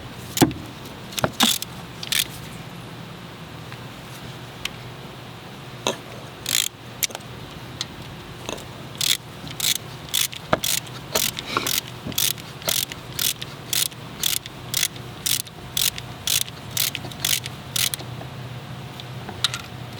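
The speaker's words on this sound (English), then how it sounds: "I'm going to tighten these screws down." Screws being tightened on a new timing chain tensioner of a VW engine, a series of sharp, rapid ratcheting clicks in short regular bursts, close and fairly loud over quiet background.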